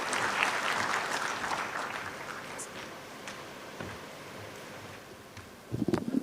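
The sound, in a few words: audience applause welcoming the governor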